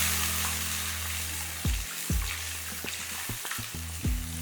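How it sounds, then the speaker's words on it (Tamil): Chicken pieces cooking in masala for a Tamil chicken kola urundai kuzhambu sizzle and fry steadily in a pan, close and loud, as water goes in and a few stirring clatters break the hiss. "இப்போ இதில் கொஞ்சம் தண்ணி ஊற்றிக்கலாம்"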